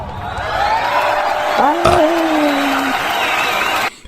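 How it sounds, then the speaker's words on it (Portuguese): Audience applause at a live comedy show, a steady wash of clapping with a few whoops and cheers lasting about four seconds before cutting off, a voice briefly rising over it. "uma salva de palmas para o Légios"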